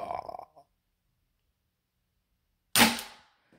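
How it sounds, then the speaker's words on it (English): A Colt Python airsoft revolver fires once at a box, a single sharp snapping shot after a short burst of voice and a long silence. "I'm gonna shoot at the box over there."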